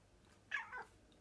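A single scruffy cat gives one short, close meow that rises and then trails off, heard on its own against a quiet indoor background.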